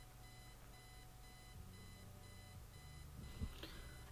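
An alarm clock in Kathy Rain rings with steady repeating electronic beeps over a low droning tone, continuous and fairly faint, with a brief click near the end.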